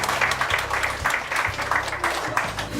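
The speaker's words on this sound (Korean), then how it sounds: "큰 박수로 맞으십시오." An audience at a small-business leadership academy entrance ceremony claps to welcome a speaker, a dense, steady round of applause heard up close with a faint voice beneath.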